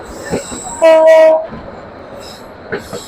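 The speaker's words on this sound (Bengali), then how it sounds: "লালমনিরহাট স্টেশনটি ছাড়া পরে আমাদের ট্রেনটি সুবিশাল একটি কার্ভ নিয়ে যাচ্ছে সামনে।" Karatoya Express passenger train running through a curve near Lalmonirhat, with a loud close horn blast in the middle, wheel squeal and rail rumble around it.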